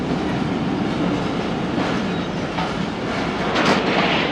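Jaffar Express coach rolling into Lahore platform 5 with a steady, loud rumble and clatter of wheels on track, ending in a faint squeal.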